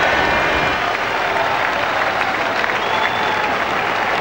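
About 8,000 fans at a Pontypridd v Brive European Cup rugby match cheer and applaud in a dense, loud, continuous roar with no break.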